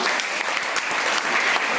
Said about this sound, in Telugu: ఒకసారి గట్టి క్లాప్స్ ఇవ్వండమ్మా